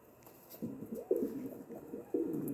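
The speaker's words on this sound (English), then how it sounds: "Now he's got kind of a baby coo." Soft, low coos from a courting male pigeon, three or four short murmuring calls, close and quiet against faint background hiss.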